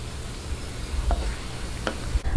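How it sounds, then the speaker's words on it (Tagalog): Hot oil strained off fried coconut curds (latik) for Filipino ube biko, giving a soft steady sizzle with a few light metallic clinks and stirring sounds close by, no talking. "sasalain na po natin dahil po mainit po itong ating mantika o oil"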